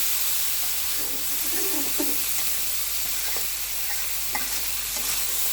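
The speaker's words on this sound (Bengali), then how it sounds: "এভাবে নাড়াচাড়া করে কিছুক্ষণ ভেজে নেব" Potato pieces stirred and fried in a pan for a bitter gourd and potato dish, a steady loud sizzle and hiss throughout with soft intermittent scraping of the spatula, no voices.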